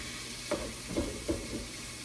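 Shrimp in a pan being stirred with seasoning and a little spice mix, three or four soft scraping strokes over a low steady sizzle.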